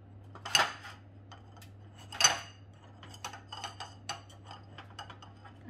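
Metallic clinks and scrapes of baked mini quiches being loosened from a baking tin, two louder clatters followed by lighter taps and ticks, close with a low steady hum underneath and no talk.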